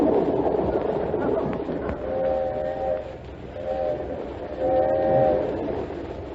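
Old-time radio sound effect of a train running, a steady rumbling clatter underneath with a horn sounding three times in long, even blasts, moderately loud and alone without talk.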